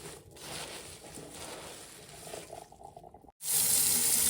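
Tap water runs into a kitchen sink while turnip greens are washed, a steady close splashing rush that briefly cuts out and then returns louder.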